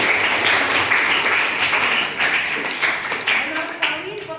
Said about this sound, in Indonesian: Aplaus untuk Adinda Ayu.